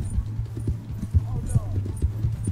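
Horse hooves clip-clopping at a steady rhythm while riding in Red Dead Redemption 2, close and moderately loud with someone talking over them.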